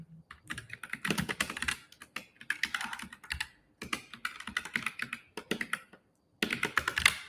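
Typing on a computer keyboard comes in quick bursts of close, crisp key clicks with short pauses between them, and no voices are heard.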